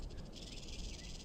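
A rattlesnake facing a red-tailed hawk gives its warning rattle, a faint, continuous dry buzzing hiss that holds steadily throughout without breaks.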